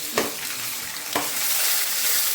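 Ginger, garlic and chili paste sautés in hot oil for a Gujarati madpodo, giving a steady close sizzle broken by two sharp stirring strokes, with no voices.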